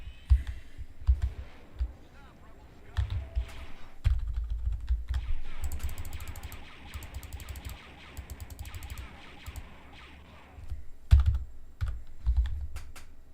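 Keys clack on a computer keyboard during a replay of Dark Forces, with steady bursts of typing and sharp clicks broken by short pauses, close and moderately loud, with no one talking.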